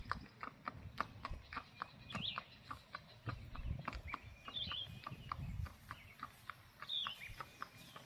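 Quick, even four-beat rack hoofbeats of a 12-year-old bay gelding, clip-clop rhythm close by, with chickens clucking faintly in the background.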